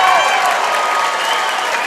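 A crowd at the 2017 IHSA boys swimming state finals breaks into dense, loud applause and cheering at a race finish, heard briefly with a voice over it.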